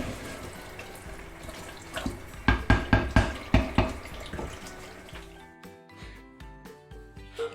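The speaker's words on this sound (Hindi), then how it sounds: "उसमें हम पानी डाल लेंगे।" Water is poured from a glass into a pot of mutton masala, with splashing and sharp clatters of a utensil against the pot over a background hiss, settling into quieter bubbling and drips.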